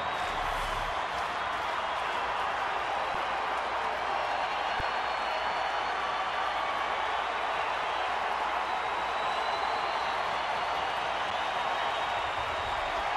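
Large baseball stadium crowd at a night game between Los Angeles and Arizona, a broad steady roar of cheering and scattered clapping that holds at a constant loud level throughout, with no speech.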